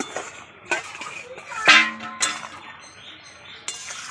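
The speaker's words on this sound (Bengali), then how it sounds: "ঢাকাটা তুলে নিচ্ছি" A metal lid is lifted off a pot of boiling water used to cook young jackfruit, giving a couple of sharp clinks and one ringing clang up close, with quiet kitchen sounds between.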